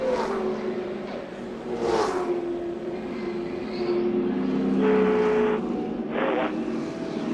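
Race trucks circle at the 2011 NextEra Energy Resources 250 after a big crash, their engines droning and rising and falling in pitch as they pass, with faint commentary underneath.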